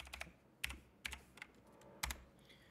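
Computer keyboard keys clack in a few quick, sharp bursts with gaps between them, close and fairly quiet, with no talking.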